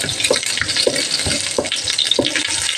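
Onions fry in oil in a pan, a steady sizzle under rhythmic scraping strokes as they are stirred about four times.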